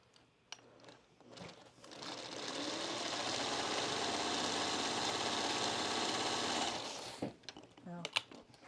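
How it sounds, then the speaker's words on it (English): A sewing machine stitches quilt fabric pieces together while pillowcases are being made. It gives a close, steady whirring run of about five seconds, with brief handling clicks before and after. "now I'm going to sew these 2 together"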